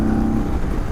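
Indian Sport Chief cruiser motorcycle engine while riding, a steady low rumble with a loud, constant drone that holds through the short moment.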